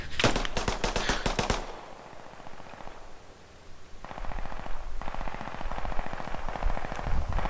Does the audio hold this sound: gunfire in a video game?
yes